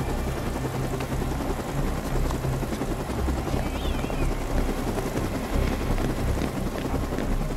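A helicopter in the video game Dead Rising 2 gives a loud, steady rotor roar and engine drone that runs unbroken through the whole stretch, filling the sound close up.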